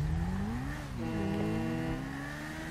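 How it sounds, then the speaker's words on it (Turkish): A superbike with twin headlights and two small exhausts in the video game GTA 5, its engine revving and shifting with rising and falling whine, close and steady with no talk. "Evet, bunun sesi bir tık daha farklı bir şey."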